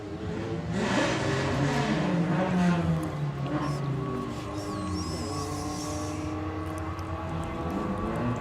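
A daily-driven 1.2 litre VW Golf accelerates down a drag strip at a Bug Jam drag racing event, its engine note rising loudly near the start and then settling into a steady, more distant drone.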